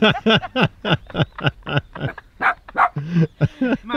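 A dog barks and yips repeatedly at close range, quick rhythmic bursts mixed with a few whining sounds.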